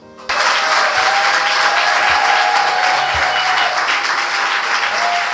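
A room full of guests bursts into loud, sustained applause at a civil wedding ceremony, the dense clapping starting abruptly and holding steady close by without any speech over it.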